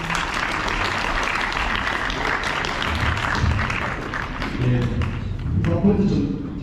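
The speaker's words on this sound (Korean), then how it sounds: "뜨거운 박수로 환영해 주시기 바랍니다." An audience at a middle school chapel service in Daegu, South Korea, for a Thanksgiving event applauds warmly, with dense steady clapping that continues throughout while voices and speech mix in.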